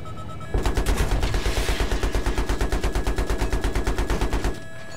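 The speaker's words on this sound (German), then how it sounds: "Oh, Anti-Air schießt." Sustained rapid burst of anti-aircraft cannon fire in Battlefield 3, heavy booming rounds in a steady fast rhythm for about four seconds, loud and close, with no talk over it.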